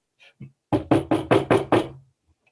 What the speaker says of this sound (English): You had best knock louder.